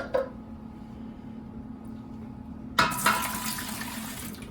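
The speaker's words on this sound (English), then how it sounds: "We want to put 2 cans of beef broth in there." Beef broth from cans splashes and pours into a chili pot, a bright liquid rush starting suddenly partway through after a quiet stretch with one early clink.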